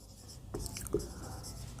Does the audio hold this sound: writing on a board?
yes